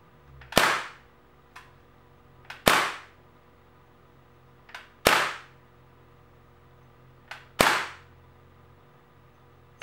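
A Crosman A4-P CO2 air pistol fires four sharp, loud cracks spaced roughly two seconds apart, each preceded by a faint mechanical click and trailing off quickly, with no talking.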